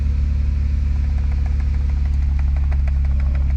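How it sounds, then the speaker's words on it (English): A car with a Pentastar 3.6 V6 engine idles loudly and evenly at close range, a steady low hum with faint ticking over it and no talk. "So we're going to start the car up."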